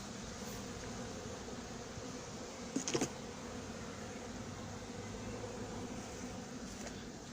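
Honeybees swarming around an opened horizontal hive, a constant, close buzzing drone with a few sharper bursts near the middle, heard without any talking.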